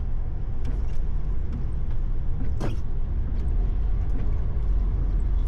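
Lorry cab interior at night while driving past a lit memorial: a steady low engine and road rumble throughout, with a brief higher hiss in the middle; no talking.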